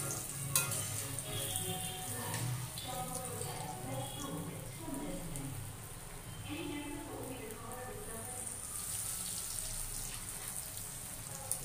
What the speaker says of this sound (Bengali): তেল গরম হয়ে গেছে, এখন একটা একটা করে ভেজে নেব।